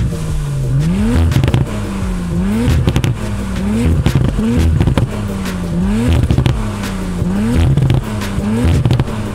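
Audi RS4 Competition engine revving repeatedly with rising and falling pitch, exhaust crackles and pops between throttle blips, loud and close, no talking.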